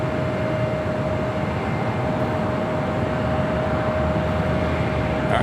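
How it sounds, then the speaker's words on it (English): A KLM Boeing 787-9 Dreamliner jet airliner, flight 604, at Los Angeles airport gives off a steady, continuous engine rumble with a constant tonal whine, moderately loud and unchanging. "the KLM Dreamliner 787-9 Dreamliner, flight 604, heading back to Amsterdam"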